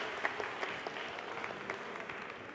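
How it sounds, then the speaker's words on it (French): An audience at a high school quiz show applauds two girls, a steady, fairly faint wash of many hands clapping throughout with a few sharper claps standing out. "On applaudit très très fort pour elles."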